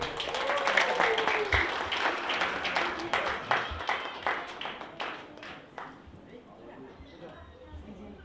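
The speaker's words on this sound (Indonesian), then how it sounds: "Madeline dapat tempat yang pertama, kita beri tepukan untuk Madeline" Audience clapping for a school competition winner at a Christmas gathering, individual claps clearly audible and fading gradually, with voices talking underneath.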